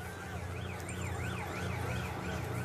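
Wailing emergency sirens sweep up and down continuously during a street riot in London in 2011, heard at a distance under a constant wash of urban noise.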